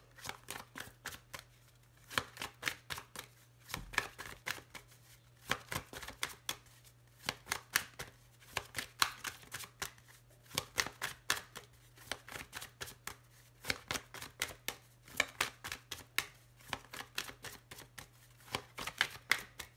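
Oracle cards shuffled by hand during a tarot-style reading, a long run of quick crisp riffling and slapping bursts repeating steadily, close and clear with no talking.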